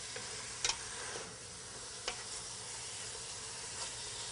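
Meat for Hungarian goulash sizzles steadily in a pot while being stirred to brown, a constant close hiss with occasional sharp scrapes and clicks of the utensil.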